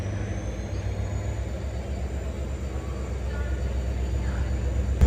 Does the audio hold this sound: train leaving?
yes